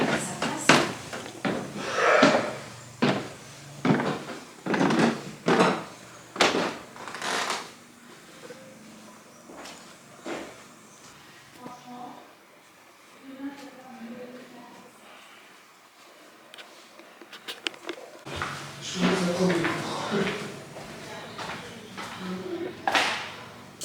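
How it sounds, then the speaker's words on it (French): Cupboard doors and drawers opening and closing in a holiday house kitchen, with a run of quick wooden knocks and clatters, then a quieter stretch and another burst of handling sounds, and people talking now and then. "Pourquoi toutes les portes s'ouvrent?"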